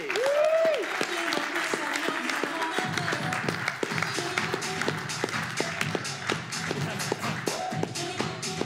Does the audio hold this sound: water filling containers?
no